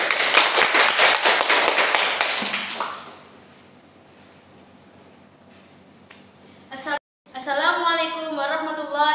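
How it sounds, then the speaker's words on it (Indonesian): A group claps for the second student team at a teacher-training presentation; a brisk, fairly close round of clapping lasts about three seconds and fades into quiet room tone, before a voice begins speaking. "Tepuk tangan untuk kelompok 2."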